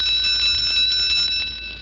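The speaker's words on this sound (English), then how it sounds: "Listen to her whack that bell." A handbell rung hard on a school bus, a loud, bright metallic clangor ringing continuously without pause for the whole stretch, fading only slightly at the end, with no voices.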